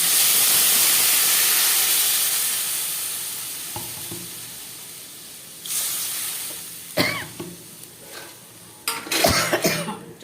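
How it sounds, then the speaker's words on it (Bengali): Water hits spices frying in a pan with a loud, steady steam hiss that fades over several seconds, followed by a few sharp bursts of sizzling and clatter. "এবারে আমি এর মধ্যে জল দিয়ে দিলাম"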